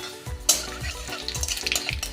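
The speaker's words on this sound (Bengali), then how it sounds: "এবার তেলে দিয়ে দেব ফোড়ন। কিছুটা 1 চামচ মতো 5 ফোড়ন দিচ্ছি।" A spoonful of Bengali five-spice tempering crackles and sizzles in hot oil after papad frying, sharp popping bursts recurring in a loose rhythm over a steady close fry.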